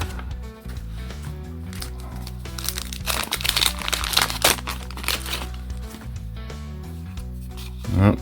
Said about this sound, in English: Start ripping some wax.